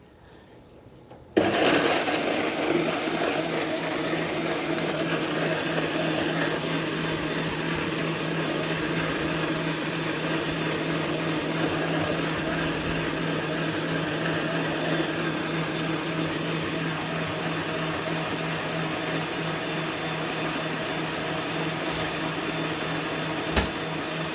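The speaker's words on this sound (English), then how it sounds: "I'm going to go ahead and turn the blender on" After a brief quiet moment, a blender blending beans starts up and runs continuously with a loud, steady whirring drone that lasts the rest of the clip.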